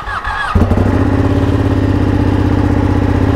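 A Ducati Panigale motorcycle engine fires up after a short quiet moment, then settles into a loud, close, pulsing idle rumble that continues without voices.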